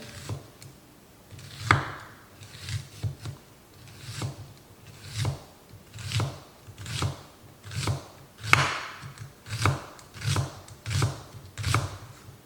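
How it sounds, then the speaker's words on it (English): A knife slices an onion super thin on a cutting board, a steady run of about a dozen crisp, evenly spaced chops close by with no talking. "I wanna cut this onion super, super thin"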